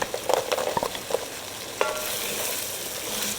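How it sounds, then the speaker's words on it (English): Chopped celery stirred into a roux for oyster chowder, sizzling and frying steadily in the pot, with a few soft utensil scrapes early on and a continuous close hiss throughout. "we're gonna add our celery"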